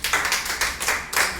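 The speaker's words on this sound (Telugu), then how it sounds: "Very good, clap." Children clap their hands four times in a quick, even rhythm, close and crisp, with no talking.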